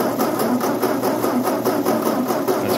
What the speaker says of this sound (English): It's cranking better than it was before, but it's dropping down to 6 volts when I try to crank it.